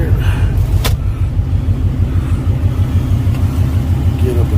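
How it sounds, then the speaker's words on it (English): A car engine idles after being dropped back in and run with low to no oil following a massive oil leak, giving a steady, close, loud rumble with an even pulsing rhythm and one brief sharp click. "the motor still sounds strong"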